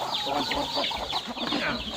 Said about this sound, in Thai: ดูลูกไก่นะครับที่เลี้ยงนะครับดูสิครับนี่ครับ พวกลูกไก่พวกไก่เนี่ย